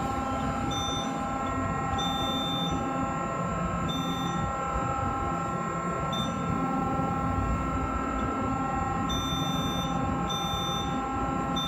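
A steady electronic alarm tone from a P4600 Series SCR battery charger sounds continuously, with intermittent higher beeps repeating over a constant mechanical hum.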